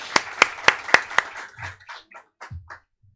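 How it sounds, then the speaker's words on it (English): Five sharp, evenly spaced hand claps from a small audience at a seaweed industry forum, followed by a few scattered, fainter claps trailing off into quiet. "So clap!"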